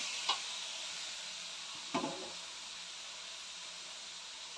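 Tomatoes frying in a pan for green gram masala, a soft steady sizzle with two brief stirring scrapes, quiet and close.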